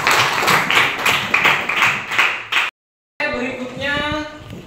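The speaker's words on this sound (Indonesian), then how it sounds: "kita beri tepuk tangan kepada kelompok ketiga" A classroom gives a round of applause for the third group, a burst of scattered hand clapping that fills the room, then stops abruptly after a short silence as talking resumes.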